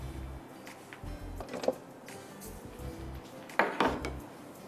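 Lemon herb chicken pasta is served from a pan into a dish, giving a few scattered clinks and scrapes of utensils against cookware, faint and close, over a low background hum.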